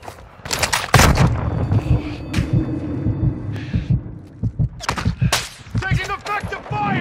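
Gunfire in a video game battle on Scarif, with heavy thudding shots and sharp cracks in bursts, loud and close, mixed with radio-style voice callouts.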